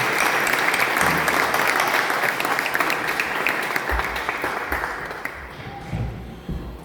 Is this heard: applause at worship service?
yes